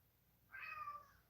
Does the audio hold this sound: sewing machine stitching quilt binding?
no